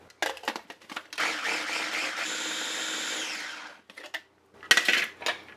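A blender grinds pistachios with a little added oil into nut butter, a sustained whirring motor run of a few seconds between clattering knocks and short bursts.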